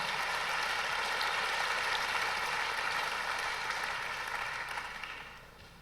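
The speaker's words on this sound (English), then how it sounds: "Give yourself a round of applause." Audience applause in a university hall after a vice-presidential speech in Seoul, a dense steady wash of many hands that holds for several seconds and then tapers off, fairly distant and soft.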